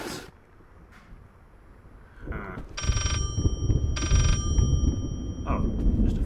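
A telephone ringing in the horror game Layers of Fear, two loud electronic ring bursts about a second apart over a low rumbling background.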